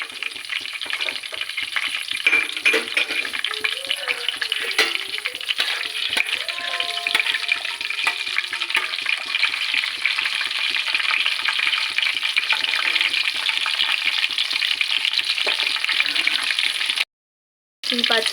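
Green chillies and mustard seeds fry in hot oil with a loud, continuous close-up sizzle and crackle. Faint spattering and pops run through it, with a brief dropout near the end.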